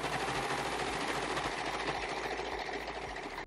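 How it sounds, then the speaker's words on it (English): A sewing machine runs steadily, stitching along the edge of folded hoodie fabric with a continuous mechanical hum and a faint rapid needle rhythm, close and unbroken for a few seconds. "Fold it in half and sew it to the edge."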